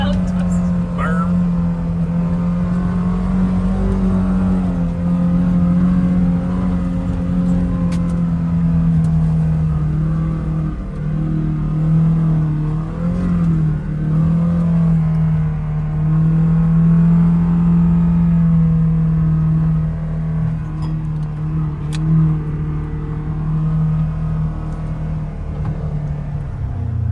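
Polaris Xpedition UTV engine running and revving steadily while riding around Green River Lake in Kentucky, a loud close drone throughout with people talking over it.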